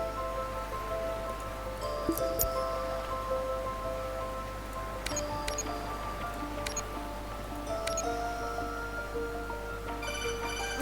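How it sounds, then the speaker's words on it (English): A phone ringing in the video game Anno 2070, repeated electronic ring tones in short bursts over a steady hum of game ambience and music. "I got a phone call."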